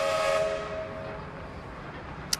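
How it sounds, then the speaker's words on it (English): A train whistle sounds near a busy four-street intersection and square, a sustained steady tone for about a second over constant street hiss and rumble, then fading into the background noise. "A couple of trains."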